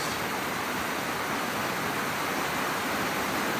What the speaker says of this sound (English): What a cool waterfall.